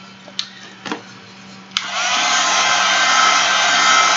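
A hair dryer dries a watercolor napkin art journal page: a few handling knocks, then a click as it switches on into a loud, steady blowing roar that continues to the end.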